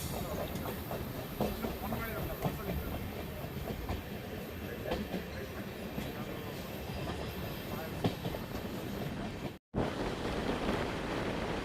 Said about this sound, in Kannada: ಎರಡು ನಿಮಿಷ ಹಾಲ್ಟ್ ನಂತರ ನಮ್ಮ ಟ್ರೈನು ತಿಪ್ಟೂರಿಂದ ಹೊರಟಿದೆ